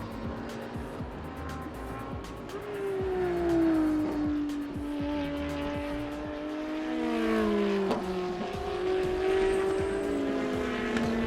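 A Ferrari GT race car roars around Sepang International Circuit in Malaysia, engine pitch sweeping up and down through gear changes with tire squeal, other cars passing in the distance, loud and continuous.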